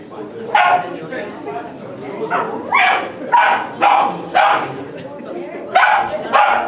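A dog at a wedding lets out a run of sharp, loud barks, roughly eight in a loose rhythm, close by and cutting through murmuring chatter and voices in the background.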